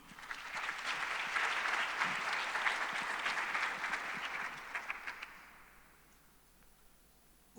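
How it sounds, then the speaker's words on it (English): Audience applause at the closing plenary of a global digital public infrastructure summit, a steady round of clapping that fades out over the last couple of seconds. "A round of applause."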